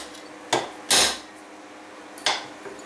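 Three sharp metallic hammer taps on a punch ring out, the middle one heaviest, as a firing pin is driven out of a Remington 870 bolt, with quiet room noise between strikes.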